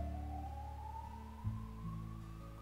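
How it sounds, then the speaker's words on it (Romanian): Ambulance siren wailing steadily with a slowly rising tone over a low rumble of traffic, fairly close and loud, with no talk. "Avem o alarmă de ambulanță."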